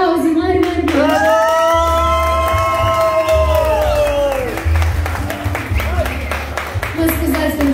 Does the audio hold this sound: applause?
yes